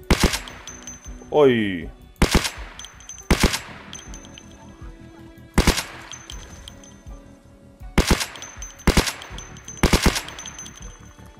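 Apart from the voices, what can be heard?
suppressed rifle gunfire in Project Zomboid video game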